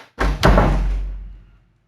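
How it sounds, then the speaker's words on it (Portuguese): A door slams shut as a Foley effect in a told story: one sharp, loud bang with a quick double hit, then a low boom that fades over about a second, heard alone. "De repente ouviram um barulho e a porta fechar."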